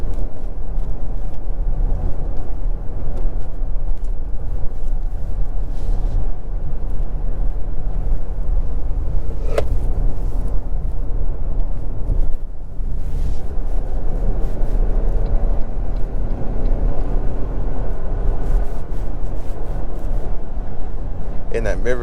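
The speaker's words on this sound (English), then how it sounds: "8-speed auto is also a very smooth shifting partner with this turbo." A 2023 Toyota Highlander Limited's turbocharged four-cylinder with 8-speed automatic drones steadily from inside the cabin, a continuous low engine and road hum with a brief click partway through, under someone talking.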